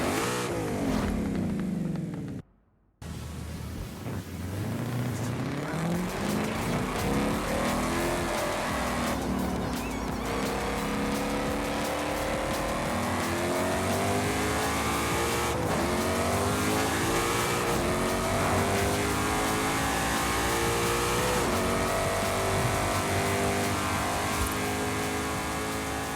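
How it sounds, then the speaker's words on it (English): A 2016 Ford Mustang Shelby GT350R roars under hard acceleration on a test drive, its engine and exhaust climbing through gears loudly and continuously after a brief silent gap near the start. "Let's hear this thing rip through Mexico as we give it a first test drive"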